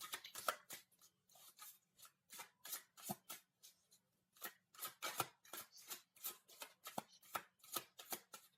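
Tarot cards are shuffled in a run of crisp, rapid riffling bursts separated by short pauses, close and quiet, with no talking.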